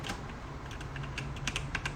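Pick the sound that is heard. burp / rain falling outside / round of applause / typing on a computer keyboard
typing on a computer keyboard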